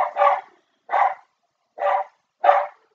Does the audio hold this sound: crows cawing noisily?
no